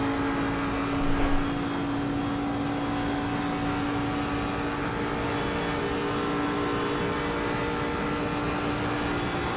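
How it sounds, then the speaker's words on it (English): A V12 GT3 race car engine drones at a steady high pitch through a sim race at Paul Ricard in Assetto Corsa Competizione, continuous and even with no speech. "Yeah, the V12 does sound really nice."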